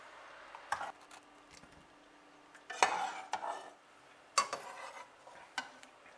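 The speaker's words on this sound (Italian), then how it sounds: "Ed ora prendiamo le patate e le mettiamo all'interno della nostra pirofila." Potatoes dropped into a baking dish in a home kitchen, giving a few soft, sparse clunks and clatters against the dish in an otherwise quiet room.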